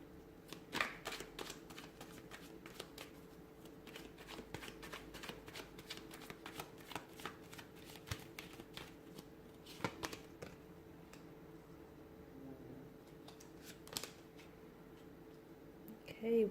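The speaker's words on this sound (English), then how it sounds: "So let's go ahead, give the cards a shuffle," Tarot cards shuffled by hand during a reading, a long run of quick papery riffles and soft slaps in irregular bursts, close and quiet against a faint background hum.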